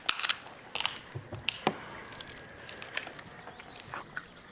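Dried walnuts being bitten and chewed: several sharp crunchy bites in the first second or two, then softer intermittent crunching and chewing, close and fairly quiet, with no talking.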